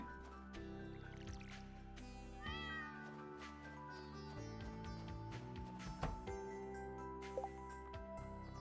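A cat meowing indoors several times, faint and intermittent, the short tonal calls rising over a low background with game music or other sounds.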